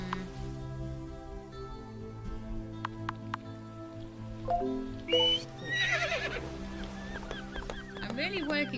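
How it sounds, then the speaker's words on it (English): A horse whinnies in the video game World's Dawn, a rising, wavering call over looping background music, with a few light taps earlier on. "I'm on a super fast horse."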